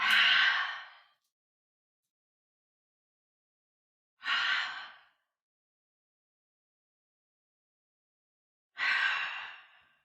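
Three forceful open-mouth exhalations during yoga arm-swing pumps, each a breathy whoosh about a second long, spaced roughly four seconds apart with silence between them.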